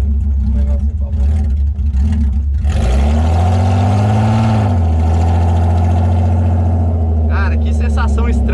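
Hot rod car fitted with a BMW engine, idling roughly and then revving hard with a rising, falling engine roar before settling back, loud and close, with people talking over it.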